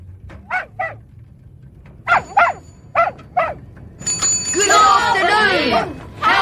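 A dog named Buster barks in short sharp bursts, followed by a cluster of bicycle bells ringing hard together, all set within a narrated children's audiobook scene with a voice speaking.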